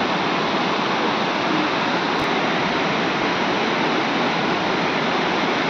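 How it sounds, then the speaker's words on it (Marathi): A waterfall roars in a scenic spot near a Datta temple, a steady, loud broadband rush of falling water filling the whole clip with no break. "बघा हा पण बघा धबधबा."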